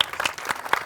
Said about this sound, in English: So give a round of applause for the panelists